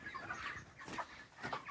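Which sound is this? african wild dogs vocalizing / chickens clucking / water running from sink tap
chickens clucking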